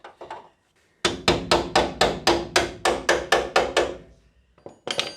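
Steady run of about a dozen firm hammer taps on a greased bolt being knocked through front suspension on a WRX rally car build in a shed, evenly spaced and close, with a couple of lighter taps before and after.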